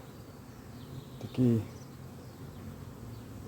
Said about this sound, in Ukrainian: пасіка гуде